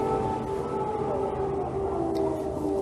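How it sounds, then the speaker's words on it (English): Air raid sirens wailing over Lviv in western Ukraine during wartime, a steady sustained tone carrying across the city without pause, loud and continuous with no talking. "Those are the air raid sirens."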